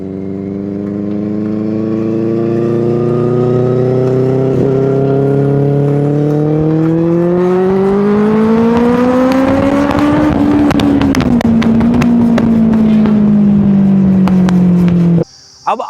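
A Benelli 600i inline four-cylinder motorcycle engine revs loud and close. The steady roar climbs in pitch and peaks around the middle, then settles and cuts off abruptly at the end.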